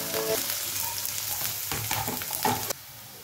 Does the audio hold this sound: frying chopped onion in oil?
yes